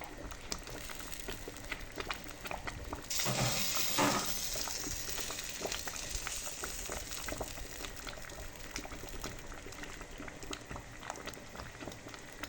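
Corn porridge (asida) stirred in a cooking pot, a steady close bubbling sizzle with scraping spoon strokes, a louder burst of stirring partway through, no talking.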